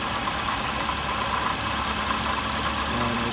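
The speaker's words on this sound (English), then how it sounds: "The first test we're going to do is he's going to rev the engine to" A car engine held at a steady raised speed of about 2500 rpm during mechanical testing, a continuous close mechanical drone with no voices.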